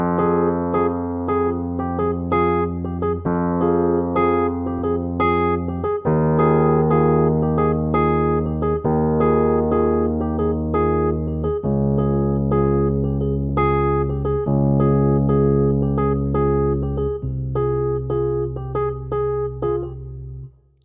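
Solo piano with a driving synth-style line in the left hand and chords in the right imitating grungy electric guitars, played loud and dense with shifting chord changes for about twenty seconds before fading out.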